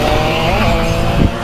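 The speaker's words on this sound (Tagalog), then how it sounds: "Yung mga go-kart dito." Go-karts drive around the Carmona race track, engines buzzing loudly and continuously nearby with a brief rising swell and tire scrub toward the end.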